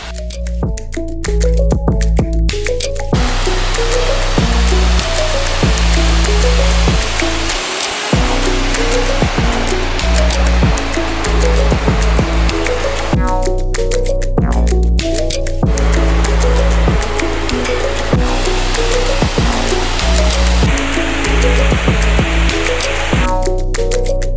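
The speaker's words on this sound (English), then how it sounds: "It's such a nice day and a beautiful waterfall." Bash Bish Falls, a double waterfall in southwestern Massachusetts, roars in a constant, loud rush of water, with music playing over the top throughout.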